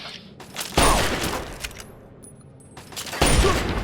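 A turret in the video game Fallout 3 fires two loud bursts of rapid gunfire with a quieter gap between them.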